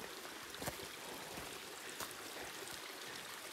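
Mountain spring water flows along the Appalachian Trail in Georgia as a soft, steady trickling rush close by, with a few brief splashy spikes, no voices.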